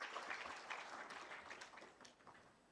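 Brief, quiet applause from a summit audience at an official launch, a short burst of scattered clapping that fades over under three seconds.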